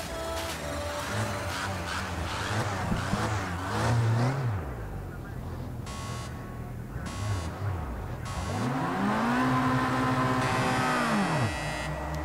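Formula Rookie race cars launching off the line at Houghton Park in Project CARS 2, engines revving up hard in repeated rising sweeps through gear changes, loud and close.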